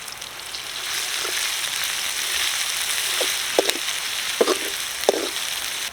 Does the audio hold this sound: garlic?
yes